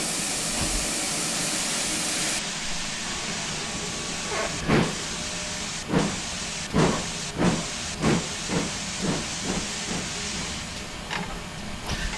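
A GWR Saint steam locomotive in Train Simulator, a loud opening hiss of steam followed by rhythmic chuffs that come steadily as the engine pulls away.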